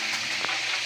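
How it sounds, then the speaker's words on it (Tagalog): Tilapia fries in a pan with a continuous hissing sizzle, close and steady, with a brief stir or spatter partway through. "Yan, piniprito na natin yan guys."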